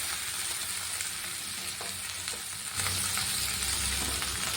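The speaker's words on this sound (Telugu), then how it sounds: "ఇలా ఒక ఐదారు టమోటాలు ఇలా చిన్న చిన్న ముక్కలుగా కట్ చేస్తున్నాను వాటిని కూడా వేసి వేయించుకోవాలి" Five or six tomatoes, cut into small pieces, sizzle and fry in a pan for a traditional pulagam rice dish. A steady close hiss with occasional stirring scrapes runs throughout, with no talk.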